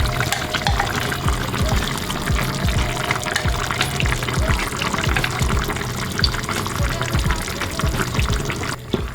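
Peanut butter pours into a stew pot with a continuous wet, glugging, slurping flow, steady and fairly close for several seconds, fading slightly at the very end.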